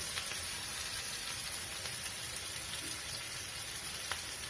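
Steady hissing sizzle of spices frying in hot oil for a kadhi tempering, constant and fairly quiet, with faint crackles and no talking.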